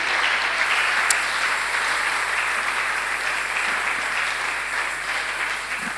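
A church congregation breaks into loud, sustained applause, dense clapping from many hands that fills the room evenly and holds steady throughout.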